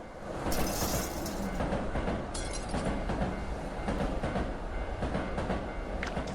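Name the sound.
train speeding past and shattering glass, from the video game Tsugunohi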